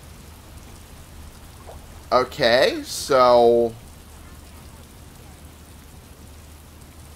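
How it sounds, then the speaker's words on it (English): Steady rain falling in the video game Fable II on Knothole Island, an even hiss of drops throughout, with a voice briefly speaking over it midway. "Chieftain, make the rain go away"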